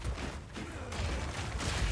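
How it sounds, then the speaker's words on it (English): Small jagged-ground explosions burst from earth spikes in Path of Exile 2, a dense crackling, rumbling barrage of game effects sounding continuously over two seconds with no voices. "All these little extra explosions that are going off are because we have jagged ground set up into the earth spikes"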